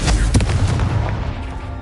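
Confringo fire spell blasts in Hogwarts Legacy, played on PS5: a loud, dense burst of explosive booms and crackling impacts filling the whole stretch, with heavy low rumble throughout.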